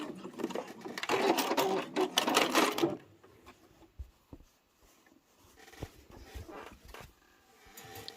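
Sewing machine backstitching at the end of a seam on a rotary cutter pouch, a fast rattling burst of stitching for about three seconds, then quiet handling clicks and faint shuffling.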